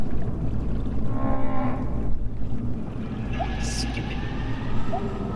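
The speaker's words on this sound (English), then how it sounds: "it almost sounds like an engine running in an empty room" A steady, low engine-like drone fills the ambience of the underwater horror game They Breathe, with faint wailing tones drifting above it.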